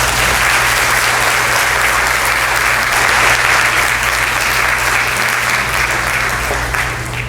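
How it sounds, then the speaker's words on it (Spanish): Loud, sustained audience applause at a professional conference on executive assistance work, dense clapping from a large crowd that fills the room steadily with no pause, over a low constant hum. "recibamos con un fuerte aplauso a Mario Solari"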